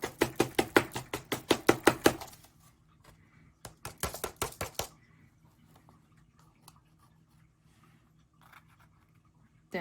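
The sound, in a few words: tapping salt-covered craft mould on a surface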